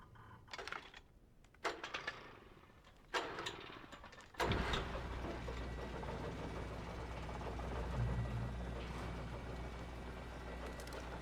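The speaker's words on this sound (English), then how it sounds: "Alright, let's get that generator started up." A generator in the video game Alan Wake starts up: a few sputtering, clattering cranking attempts, then the engine catches into a loud, steady running drone that continues to the end.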